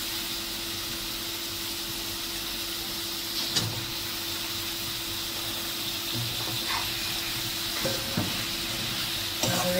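Eggplant and potato pieces being sautéed in roasted masala give off a soft, steady sizzle with a few scattered scrapes and clinks of stirring, close by, under a constant background hum and with no voices.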